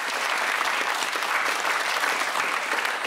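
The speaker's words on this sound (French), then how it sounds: "On peut applaudir." A television studio audience claps steadily, a dense, even wash of applause that holds at full strength for the whole stretch without letting up.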